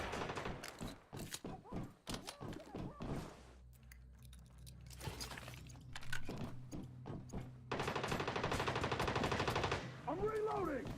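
Gunfire in the survival shooter Once Human: sharp rapid shots in clusters and sustained automatic bursts, loud and close, mixed with in-game character voices shouting over the combat.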